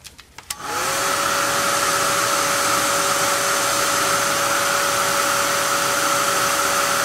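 A handheld heat dryer switches on after a few clicks and runs loudly and steadily, blowing over a craft project with fine gold specks.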